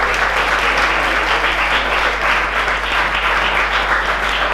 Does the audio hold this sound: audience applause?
yes